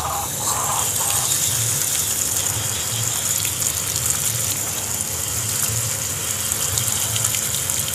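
Running water washes over the roots of an aglaonema plant, a steady, close gushing flow that continues without a break.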